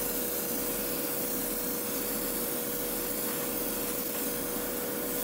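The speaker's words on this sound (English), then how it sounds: "Now that I have cleaned the airbrush" An airbrush sprays paint onto a model road sweeper with a steady, continuous hiss that lasts the whole time, close and even, with no voices.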